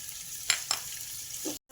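Turmeric sizzles in hot oil with ginger-garlic paste in a pan, a steady frying hiss broken by a few scraping stirs of a spoon, close and moderately loud.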